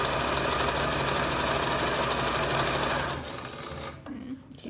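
A sewing machine runs steadily for about three seconds while stitching reversible shorts at the waist, with a fast, even whir. It then slows and stops, leaving a quieter handling sound at the end.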